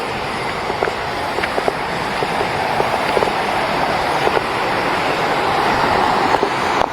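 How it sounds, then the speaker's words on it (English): Constant broad roar of the Maranum Falls waterfall in the Philippines, heard up close with faint gusts buffeting the microphone and occasional small splashes and taps. "There we go, so finally at the waterfall."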